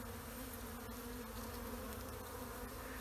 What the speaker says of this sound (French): Tiens, regarde les autres abeilles, Denis, t'as vu?